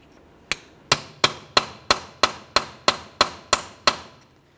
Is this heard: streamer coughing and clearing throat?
no